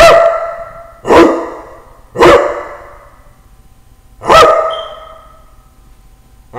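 A voice imitates an older, big dog barking: four deep, gruff woofs spaced about a second apart, loud and close, with no other sound around them.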